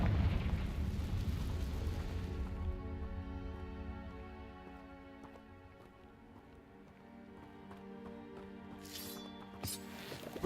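A Confringo fire-blast spell bursts in Hogwarts Legacy with a loud, deep rumbling eruption that rolls on and slowly fades, with sharp crackling pops and snaps near the end.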